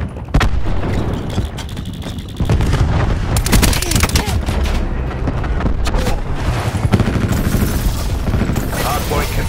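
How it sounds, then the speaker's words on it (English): Cluster grenade explosions and gunfire fill a multiplayer hardpoint match in a video game: dense rapid shots, sharp blasts and booming bursts crowd together loudly, with voice callouts mixed in. "Throwing cluster grenade."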